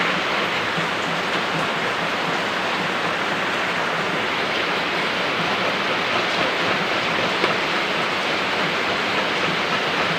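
Heavy rain pours down in a steady, dense hiss that holds evenly throughout without a break.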